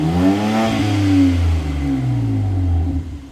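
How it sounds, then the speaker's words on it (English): A 2025 BMW M4 Competition on its stock exhaust revs up and settles, a smooth rising and falling engine note heard close with no talk. "what does it sound like after we switch it back to stock?"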